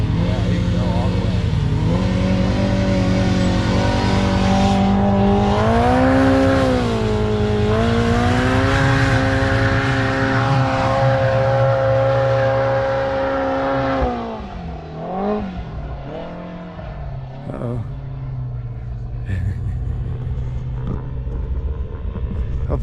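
2024 Polaris Pro R with an EVO big turbo revving hard up a hill, strong rising and falling engine tones for about fourteen seconds, then dropping off as the throttle lets out, fading into quieter running.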